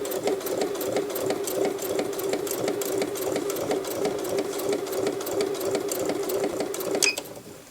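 A sewing machine stitching fabric for a ruffled placemat runs in a fast, even mechanical chatter at close range, holding steady before slowing and stopping near the end.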